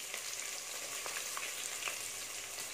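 About 200 grams of onion sliced into rounds sauté in oil for a chicken curry, giving a dense, continuous close sizzle with small crackling pops throughout.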